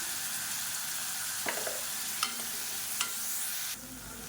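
Tomatoes sauté in a pan for rasam, a constant hissing sizzle with a few scraping stirs and light utensil taps.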